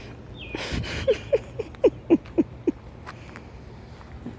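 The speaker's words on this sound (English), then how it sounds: "God, this damn bird." In a zone 5b garden, a bird gives a series of seven short, sharp calls at a steady rhythm, close by, over quiet background noise.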